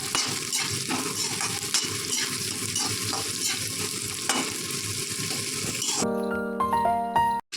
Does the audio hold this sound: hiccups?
no